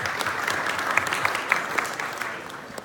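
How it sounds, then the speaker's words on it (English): A luncheon audience claps for itself, a steady patter of many hands with a few sharper individual claps standing out, moderately close and fairly quiet, with no talk over it. "Round of applause for yourselves."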